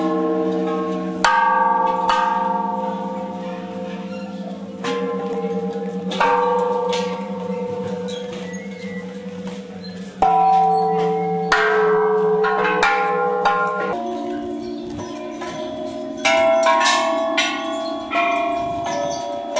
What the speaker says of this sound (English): Huge bell.